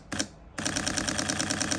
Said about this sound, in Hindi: उसके बाद मैंने शटर प्रेस किया